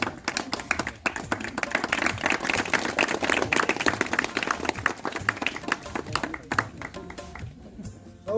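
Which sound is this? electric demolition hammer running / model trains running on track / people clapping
people clapping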